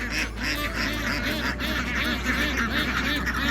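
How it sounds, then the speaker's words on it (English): A flock of ducks about two months old quacks and honks loudly and continuously, many calls overlapping in a dense, noisy chorus close by. "here are the ducks."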